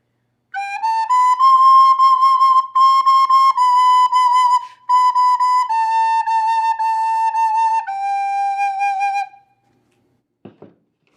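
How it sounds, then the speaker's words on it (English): A recorder plays a short, clear melody of sustained notes, close and solo, ending with a brief soft tap after it stops. "The recorder sounds like this."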